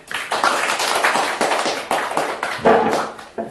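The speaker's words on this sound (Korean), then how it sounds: "박수 부탁드립니다." Audience clapping for an author at a Korean book-launch video lecture, uneven bursts of claps with gaps, fairly close and moderately loud, no talk.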